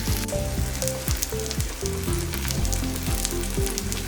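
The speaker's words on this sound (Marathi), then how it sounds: "आता बाजूने आणि छिद्रामध्ये थोडं तेल सोडूया." Maharashtrian dhapate flatbread frying in oil in a pan, a steady crackling sizzle holding at even loudness throughout, with faint music underneath and no talking.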